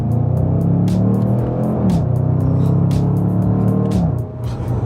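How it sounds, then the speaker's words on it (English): Engine of a 2021 Range Rover Sport SVR, a steady loud rumbling drone held throughout with slight pitch shifts, no talking over it. "Oh, it sounds so good."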